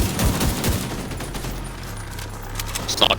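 Sniper gunfire in The Division 2: a few sharp shots crack early, followed by a lower rumbling stretch and a brief burst near the end.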